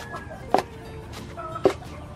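Chickens cluck in two sharp bursts about a second apart, fairly close, over a quiet rural background.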